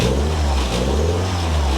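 Alfa Romeo 2.0L twin cam engine, freshly rebuilt and running cold with its exhaust just hooked up, revving steadily in a brief burst of gas with a loud, continuous low rumble and no voices.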